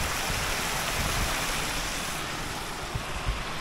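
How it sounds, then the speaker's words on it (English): A small creek spills over a little dam at a wildlife management area, a steady broadband rush of flowing water, moderately close and uninterrupted, with no voices. "This little creek."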